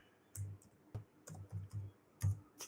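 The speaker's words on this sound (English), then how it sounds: "I'm just typing a message in here to somebody in the chat" Typing on a computer keyboard in short irregular bursts of close, crisp key clicks with brief pauses between, heard alone without talk.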